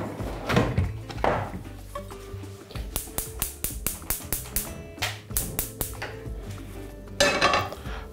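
A frying pan set onto a stovetop burner before mushrooms are fried in vegetable oil, heard as clattering cookware knocks and a run of sharp metallic taps and clinks, close and fairly loud, with no talking.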